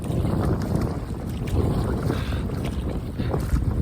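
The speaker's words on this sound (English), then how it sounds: "I'm dealing with the wind at the moment. A headwind too." A headwind blows over a canoe on the Catawba River, a loud, steady roar buffeting the microphone that continues throughout without a pause and without any talking.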